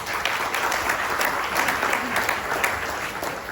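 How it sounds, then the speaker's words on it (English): Audience at a Guam Chamber of Commerce membership meeting applauds, a close, dense and even round of clapping lasting a few seconds. "Let's give them a round of applause."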